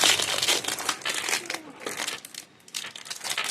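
Plastic packaging around a 3x3 gear cube crinkles and rustles loudly up close in repeated bursts, with a brief lull partway through and no talking.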